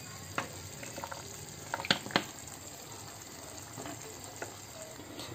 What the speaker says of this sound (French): je vais couvrir et laisser mijoter